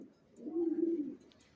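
A single soft, low coo from original racer pigeon chicks, close and faint, lasting about a second over quiet background.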